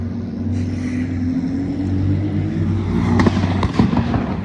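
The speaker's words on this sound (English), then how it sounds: "watch him take off. That blue McLaren is leaving too." A blue McLaren sports car pulls away in a steady, loud engine drone with a rising rumble, at a car meet. Sharp cracks and pops break in near the end.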